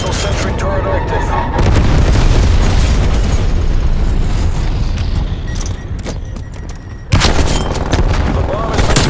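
Rumbling artillery strike explosions from a military shooter video game, heavy broadband booms filling most of the stretch with a brief drop before a renewed blast, loud and close, with game voice callouts mixed in.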